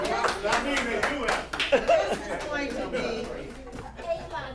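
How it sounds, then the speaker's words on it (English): Audience applause at a community task force meeting, a burst of clapping mixed with chatter and light laughter, with a voice talking over it throughout. "Y'all don't have to clap for her."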